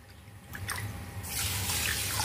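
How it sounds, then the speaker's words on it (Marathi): Half a bowl of water is poured into a pan of sugar on a gas stove for sugar syrup, a short trickle that swells into a brighter, louder splashing pour near the microphone. "त्याच वाटीने आपल्याला अर्धी वाटी पाणी घालायचं आहे।"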